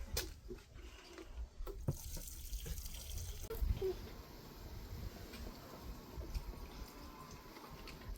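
Water splashes and trickles as it is poured over tomato plants in a home garden, a soft, uneven flow heard faintly with outdoor background noise.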